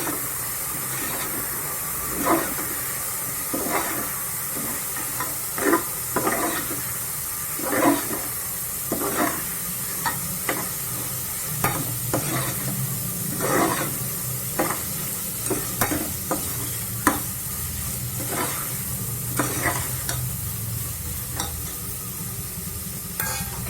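Chopped tomatoes stirred into frying chicken biryani masala in a pressure cooker, with a constant sizzle and hiss under repeated sharp scrapes of a ladle against the pot at an irregular rhythm.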